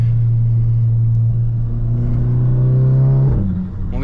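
A 450 hp Golf GTI engine revs hard in third gear, a loud, close, steady rising drone that holds high and then drops off sharply near the end.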